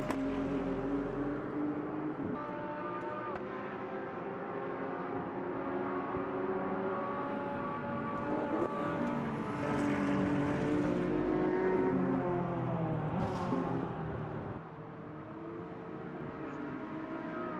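Race cars including a BMW and a Corvette drive a circuit, a continuous tonal engine drone rising and falling in pitch as they pass, moderately loud and steady with occasional louder surges.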